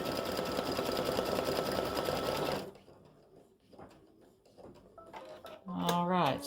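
An embroidery machine runs a test stitch on a hat applique design, a dense rapid mechanical stitching chatter for about two and a half seconds, then stopping, leaving quieter clicks and handling noises before a short burst of motor whir.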